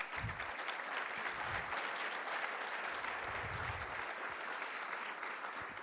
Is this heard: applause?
yes